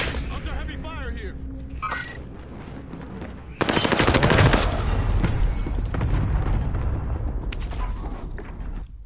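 Heavy automatic gunfire in Call of Duty Warzone breaks out suddenly and rattles on in dense, loud bursts. Rumbling booms mix in, and a voice speaks over the shooting.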